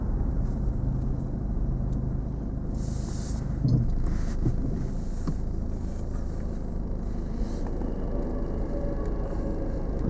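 A car passes on the road while someone is driving, a steady low rumble under wind noise with a faint swell in the middle, no talk heard.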